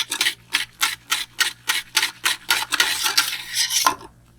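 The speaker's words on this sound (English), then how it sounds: "I just keep mixing until all the lye is dissolved." A utensil stirs lye into beer in a pot while making soap, producing rhythmic scraping swishes at a steady pace of about three per second, close and clear, ending in a faster run of strokes and a light clink.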